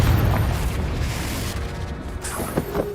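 A Confringo fire spell detonating in Hogwarts Legacy, a loud booming blast with a rumbling low tail that fades over a few seconds, followed by smaller crackles.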